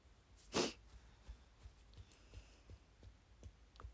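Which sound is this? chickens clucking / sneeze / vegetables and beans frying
sneeze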